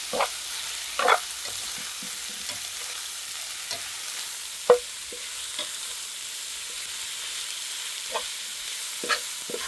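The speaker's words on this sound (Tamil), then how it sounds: "நான் இந்த தருணத்தில் கைமா கொத்துக்கறி சிக்கனாக உள்ளே இறக்குறேண்ணா அப்படியே வெந்துடும்" Minced chicken keema frying with masala in a pan gives a soft, steady sizzle, broken by intermittent scrapes and clacks of a stirring spoon, one louder knock near the middle, with no voices.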